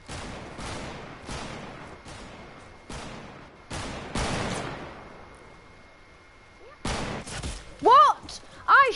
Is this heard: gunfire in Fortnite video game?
yes